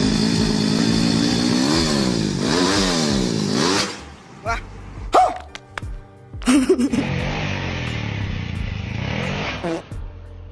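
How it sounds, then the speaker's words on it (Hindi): A motorcycle parked in the middle of a road is revved again and again, with rising and falling engine surges, then clattering bursts and a steadier run, with voices mixed in. "फटफटिया को बेवजह बीच सड़क पर खड़ा कर रेस पर रेस दिए चले जा रहे हैं"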